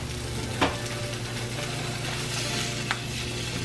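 Salmon fries in oil in a pan, a steady close sizzle and crackle with a couple of sharp pops standing out.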